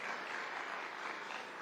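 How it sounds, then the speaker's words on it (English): Audience applause fills a hall at the Kenya Private Sector Alliance (KEPSA) 20th anniversary event at KICC, a steady dense clapping held at an even level throughout with no voices. "I think you should applaud yourselves for that"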